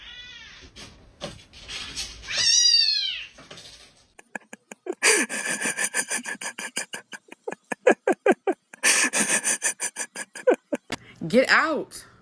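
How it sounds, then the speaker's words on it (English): A pet cat meows and yowls in a series of drawn-out cries, then a rapid run of chattering, clicking calls, with a person talking over part of it. "My cat is so sweet."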